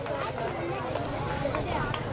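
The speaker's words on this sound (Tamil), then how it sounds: "கை தட்டுங்கப்பா." Audience clapping at a school anniversary celebration, a steady dense patter of many hands from a seated crowd, with voices chattering underneath.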